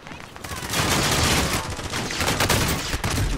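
Rapid automatic gunfire rattles in the video game Call of Duty: Modern Warfare, dense, loud bursts running almost continuously through the clip with occasional dips between volleys.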